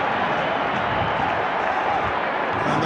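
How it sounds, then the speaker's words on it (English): A rugby stadium crowd roars in a steady, dense wash of noise during a Stormers vs Connacht semi-final, loud and sustained with no break. "the crowd slowly turning the volume up, a bit of excitement"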